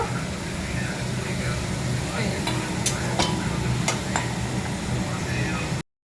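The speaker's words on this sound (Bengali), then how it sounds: "মাংসর আলুটা ভাজা হচ্ছে, এটা মাংসতে যাবে আলুটা।" Potato pieces frying in hot oil in a pan for a meat curry, a dense continuous sizzle with a few sharp utensil clinks partway through, ending abruptly.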